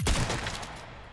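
A shotgun fires in the Resident Evil 4 Remake video game: a single close, loud blast opens the moment and then decays into a rough, fading tail.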